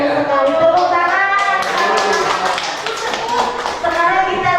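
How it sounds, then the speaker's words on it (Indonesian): Audience applause at a positive-discipline teacher workshop in Indonesia. Several seconds of steady, fairly loud clapping from a group, mixed with voices from the room throughout. "Tepuk tangan."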